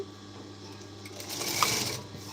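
A sewing machine stitching a blouse runs in one short steady whirring burst, close and fairly quiet, swelling slightly toward the end.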